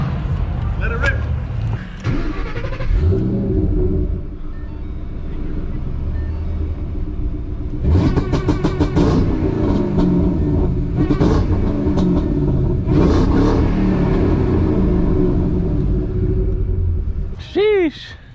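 An 800 HP Shelby engine rumbles at idle and then revs hard in several loud bursts with a deep, crackling exhaust roar, recorded close up while people talk over it.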